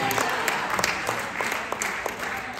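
A church congregation claps during a praise and worship service, a brief burst of steady, dense hand clapping with a few sharper claps standing out.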